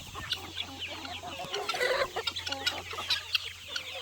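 Rare chicken breeds from around the world, silkies among them, cluck and chatter in a busy flock, with overlapping calls close by and steady low hum beneath.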